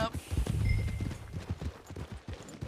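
Horse hooves clip-clop at a walk in a Red Dead Redemption 2 game scene near the stables, a steady run of soft, close thuds mixed with talking voices and ambient background.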